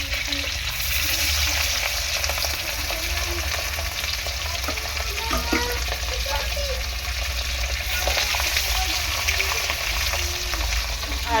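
Katla fish pieces fry in hot oil, giving a steady, dense sizzle with crackling spatters that runs unbroken from start to finish at close range, with no talking.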